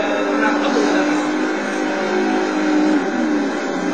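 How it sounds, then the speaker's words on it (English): A full-size truck engine from the off-road racing game Baja: Edge of Control drones loudly and continuously as it pushes to overtake, a steady roaring buzz that holds for several seconds without breaks. "that's the full-size truck trying to overtake me"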